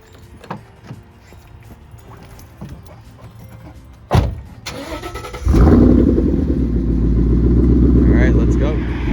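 A 2014 Ford Mustang GT fires up with a sharp starter crank and V8 roar, then settles into a loud, deep rumbling idle and pulls away, with a voice talking before the start.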